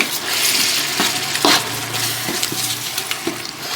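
Ginger garlic paste sizzles in hot oil in a pan while a spoon stirs it, giving a constant close frying hiss with repeated scraping strokes and light clinks of utensil against metal.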